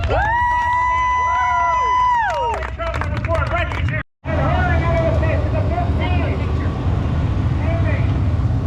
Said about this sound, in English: So let's give a round of applause to Pilot Little